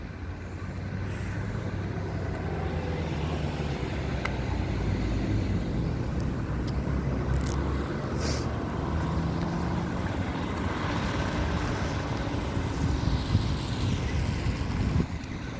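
Street traffic heard while walking to work in a Turkish city, a continuous broad hum of passing vehicles mixed with wind buffeting the microphone, steady throughout with no voices.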